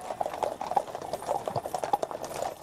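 Hooves of trotting horses at the Trooping the Colour parade clip-clop in a quick, continuous, overlapping rhythm, moderately loud against a busy background rumble.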